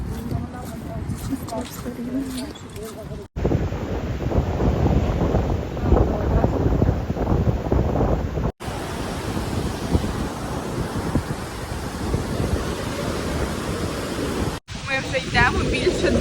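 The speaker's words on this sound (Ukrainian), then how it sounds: "Дуже вітер на сьогодні" Strong wind roars and buffets the microphone continuously, a loud, steady rushing rumble throughout.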